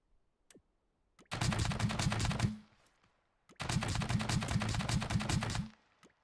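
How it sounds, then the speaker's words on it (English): A tiny, space-efficient machine gun turret built on two bearings in the building game Scrap Mechanic, firing two bursts of rapid, evenly spaced shots, each lasting over a second, with brief faint clicks before and between, no talking. "here's this really tiny, really space efficient machine gun turret."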